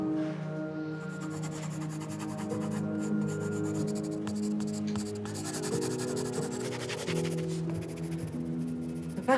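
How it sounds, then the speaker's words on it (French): Pencil scratching across paper during writing, a steady rubbing texture with faint strokes that runs continuously under a low room hum, close and moderately loud. "Le bruit de ton crayon, là."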